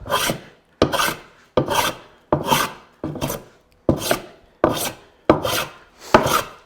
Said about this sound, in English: I'm going to switch to more of a diagonal planing stroke instead of straight across